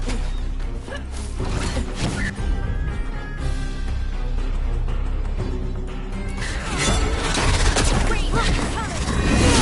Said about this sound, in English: Watch yourself. They have Gatlock cannons.